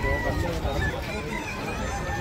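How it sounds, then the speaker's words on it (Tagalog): Several chickens clucking and calling over busy market chatter at a Friday morning market in Dammam, Saudi Arabia, a constant mix of bird sounds and nearby voices. "Ayan, puro mga manok."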